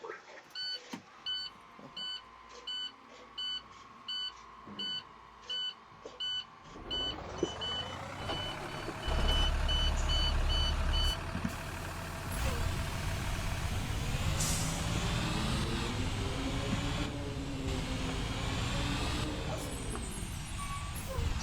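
A transit bus sound pack in a video game plays a series of regular reversing beeps, then an engine rumble comes in with brake hiss and squeaky brake sounds rising and falling over it.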